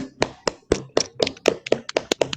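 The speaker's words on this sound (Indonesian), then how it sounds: "Kita beri tepuk tangan untuk Mbak Kaila yang sudah presentasi" A class claps for a presenter, a few pairs of hands giving sparse, uneven, fairly close slaps at an irregular rhythm for a couple of seconds, with no voices over them.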